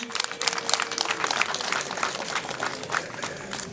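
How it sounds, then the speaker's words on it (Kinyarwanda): Wedding guests clap together in a steady, moderately loud burst of applause, a dense patter of many hands with no voices over it. "Amashyi menshi"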